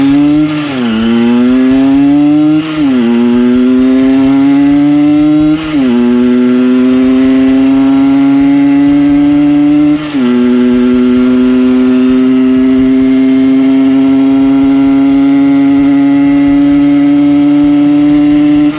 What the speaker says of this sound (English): Here I am riding up a very steep road to the Kerrang on the Isle of Skye. The Super 6 does it with ease.